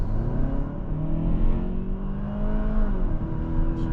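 A 2024 Kia K5 GT accelerates hard, its engine drone rising steadily in pitch with a whirring note, heard loud from inside the cabin with no talking.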